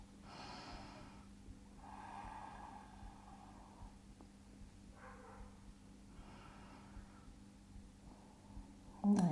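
Deep breaths during a beginner yoga warm-up, about five slow, soft inhale-exhale cycles spaced a couple of seconds apart, faint and close in a quiet room.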